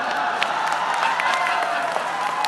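Steady applause and cheering from an audience at a Hindi poetry gathering at the Banda festival, dense continuous clapping with scattered whoops, fairly loud and filling the whole moment.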